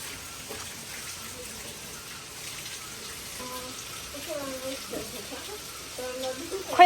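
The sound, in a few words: flowing stream in the forest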